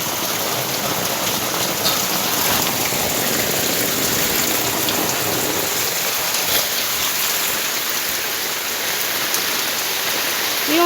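Heavy rain falling in Jaffna, a steady dense hiss of downpour on surfaces that holds constant and loud throughout, with no pauses and no speech.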